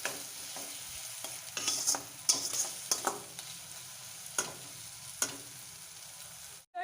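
Spiced masala for muri ghonto, a Bengali fish-head and rice dish, being stirred and fried in a pan, with a steady soft sizzle and intermittent scraping clicks of a spoon against the metal.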